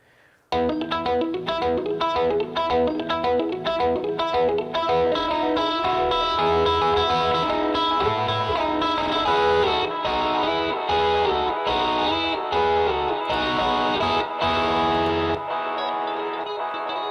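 Electric guitar through a clean amp pushed hard with a Big Rig Overdrive plays sustained chords with a shimmering, echoing delay tail, loud and continuous throughout, with no talking.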